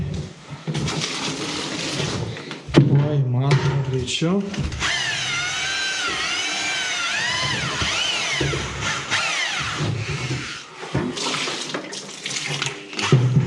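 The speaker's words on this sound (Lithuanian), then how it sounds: "tai pasipilam vandens greitai" Water gushes from a tap into a container during wall-levelling work with tile adhesive, loud running and filling that shifts in pitch as it fills, with a brief drill-like whir and a person speaking over it.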